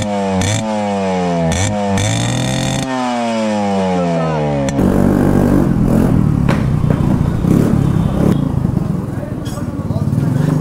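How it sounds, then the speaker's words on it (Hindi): A loud Yamaha Fascino scooter engine with an aftermarket exhaust and its dB killer removed revs in rising bursts, then settles into a rough, throaty exhaust rumble close by. "अभी आप लोगों को विदाउट डिविकलर साउंड सुनाता हूँ एक्रोबिक एग्जॉस्ट में कैसे साउंड निकलती है।"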